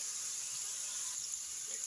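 Onions sizzle steadily in a hot pan, a constant crackling hiss, with a brief scrape of stirring at the very end.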